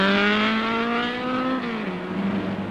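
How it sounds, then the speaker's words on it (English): A racing car, an Alfa in a 1968 British Saloon Car Championship race, pulls away from the pits with a loud, close engine note rising and then shifting down as it accelerates. "Cuesta brings in his BMW for a driver change and refueling as the Alpha pulls out"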